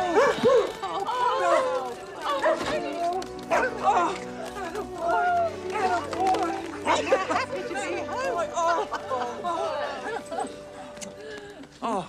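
Several Dalmatian puppies yip and bark in high, excited bursts, mixed with whimpers, while people talk over them close by.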